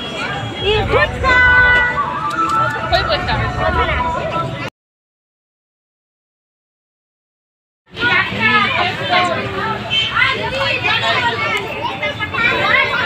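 A dense crowd of adults and children chatters all around, with overlapping voices and kids' shouts forming a steady loud babble that cuts out abruptly for a few seconds mid-clip, then returns just as busy.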